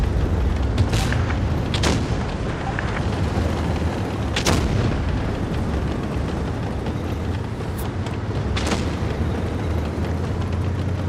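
Foch 155 tank destroyer's heavy gun firing in a video game, booming blasts spaced a few seconds apart over a steady low rumble of battle noise.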